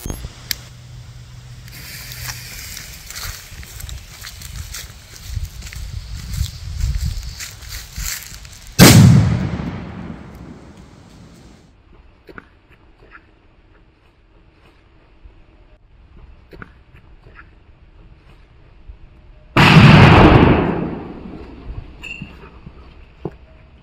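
An Orion Megatron firecracker goes off in two separate loud blasts, each a sharp crack followed by a long rumbling decay, with quiet outdoor stretches between them.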